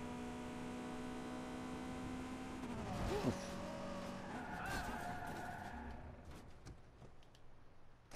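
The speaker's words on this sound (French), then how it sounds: "c'est une voiture qui va assez vite comme vous pouvez le constater" A fast car in Watch Dogs 2 drives with a steady, high engine whine, then breaks into a loud tyre skid about midway. A short exclaimed voice is heard, and the engine noise fades toward the end.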